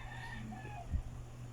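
Native chickens in Lapu-Lapu City, Cebu, give a soft, faint cluck amid steady low background hum, brief and distant rather than a full crow.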